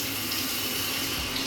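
Hot water runs steadily from a tap in a house with a jetted tub, a continuous close rushing stream with no talk.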